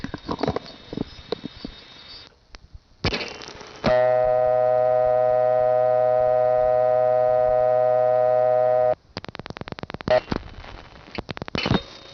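A 1976 step-by-step telephone exchange dial tone from St. Thomas, heard in New Tripoli, Pennsylvania: a sustained buzzy hum lasting about five seconds, framed by clicking switch pulses and line clatter before and after.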